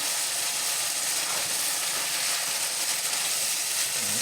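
Beef bacon and meat fry in a pan, giving off a dense, even, close sizzle and hiss that holds steady throughout.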